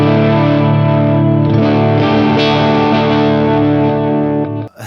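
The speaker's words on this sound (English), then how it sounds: "I've got that Will Sledge Effects Slim Drive turned on all the time" Electric guitar through a Will Sledge Effects Slim Drive overdrive pedal, a slightly dirty near-clean tone, playing sustained chords loud and alone, with a ringing wash that fades abruptly at the end.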